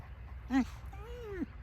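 A puppy lets out a short yelp followed by a drawn-out, falling whine, close and fairly quiet against a soft background.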